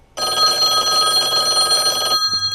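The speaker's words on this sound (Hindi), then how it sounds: "घर के अंदर एक लैंडलाइन पर फ़ोन बजा" A landline telephone rings loudly and steadily for about two seconds in a continuous electronic trill, then cuts off abruptly.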